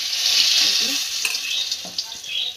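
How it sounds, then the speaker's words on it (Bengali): Stuffed capsicum fritters fry in hot oil, a close, steady bright sizzle with a few crackles and soft stirring clicks, no talking. "এই যে এক এক করে এখন সব তেলের মধ্যে দিচ্ছি"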